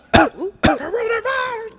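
A voice imitates a cough: two sharp, loud bursts close together, followed by a drawn-out voiced sound, all near and alone.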